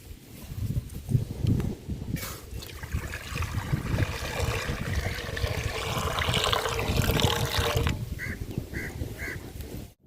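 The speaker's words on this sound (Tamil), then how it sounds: "தண்ணி நல்லா கொதிக்குதுங்க." Water coming to a rolling boil in a pot on a home stove for cooking wheat payasam, a steady bubbling, gurgling churn that stays dense and close throughout, with a few faint high clinks near the end.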